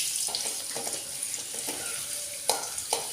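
Mustard seeds and chopped shallots fry in hot oil for a Kerala-style coconut chutney, giving a close, steady sizzle broken by intermittent sharp pops and stirring clicks.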